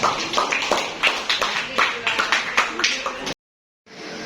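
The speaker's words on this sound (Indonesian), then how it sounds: "Sekali lagi tepuk tangan." Rhythmic group clapping from a small classroom audience after a discussion presentation, loud and close with distinct claps, ending in a short abrupt silence before faint sound resumes.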